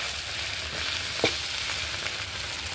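Tomato paste added to hot oil with cumin seeds and ginger gives a steady, moderate sizzle and frying hiss, with a single brief scrape of stirring partway through and no speech.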